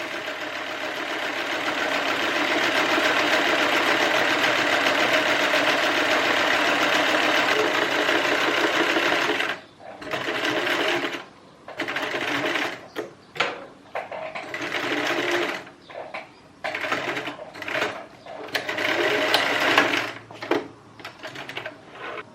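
A sewing machine with a rolled hemming foot hems dress sleeves, first in one long continuous run, then in short stop-start bursts of stitching with brief pauses between, close and moderately loud.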